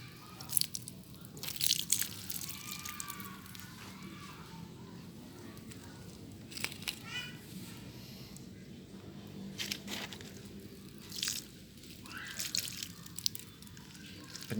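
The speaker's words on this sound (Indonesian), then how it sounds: "Penyiraman pertama ini kita pastikan sampai semua media itu basah ya." Water poured over aglaonema potting media drips and trickles in soft, scattered patters, with brief brighter splashes at intervals over a steady low background.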